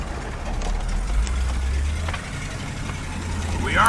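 A 1994 Ford F150 truck engine labors in low gear, a steady deep rumble that sags and swells as it strains over bumpy ground, with faint rattles on top.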